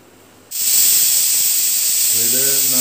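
A pressure cooker holding soup stock for a hot and sour vegetable soup suddenly lets out a loud, sustained whistling hiss of escaping steam after a quiet start, continuing steadily to the end with a faint voice underneath.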